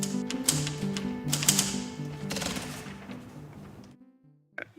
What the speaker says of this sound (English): He's typing it out as he's receiving it.